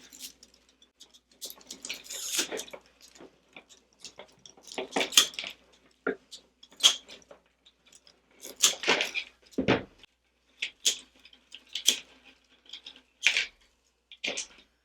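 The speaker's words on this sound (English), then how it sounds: "So what we're going to do is cut the grapevine. Just cut some pieces off." Pieces of grapevine are cut for a wood bead wreath, giving a close, irregular series of sharp snips and crisp crackling clicks separated by short quiet gaps.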